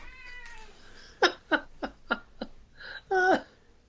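A cat meows several times in a row, loud and close, with a string of short separate cries followed by one longer, drawn-out meow at the end, with no talking.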